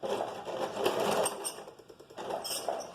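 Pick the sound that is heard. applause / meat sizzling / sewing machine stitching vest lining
sewing machine stitching vest lining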